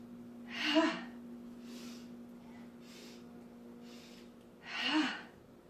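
Children breathe out forcefully with a sharp "ha" during a kids' yoga sun salutation, two clear close exhalations about four seconds apart with softer breaths between, over a steady low hum.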